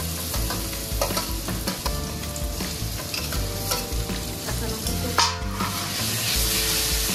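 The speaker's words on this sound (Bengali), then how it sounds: "এখন আমি দিব ওই বেগুনটা, এই বেগুনটাই তেলের মধ্যে দিলাম" Eggplant frying in hot oil with onion and green chili: a dense, continuous sizzle with scattered clicks and scrapes of stirring, close and fairly loud throughout.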